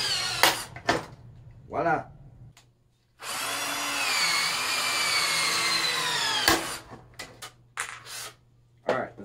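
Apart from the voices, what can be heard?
riveting an aluminum tool case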